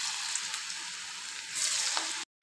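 Cabbage pieces fry in hot oil, a dense steady sizzle that swells briefly near the end before a sudden cut.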